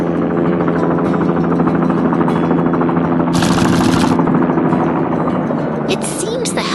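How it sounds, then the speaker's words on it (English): Helicopter flying overhead, a continuous loud rotor and engine drone with rapid chopping texture, joined by brief hissing bursts partway through. "The helicopter is back in the air, soaring peacefully above the city once more."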